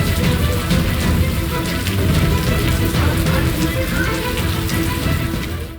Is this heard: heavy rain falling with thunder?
yes